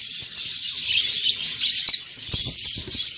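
Budgerigars in a breeding cage with eggs and chicks chirp and chatter continuously, close by, with quick overlapping tweets and a few soft rustles and knocks underneath.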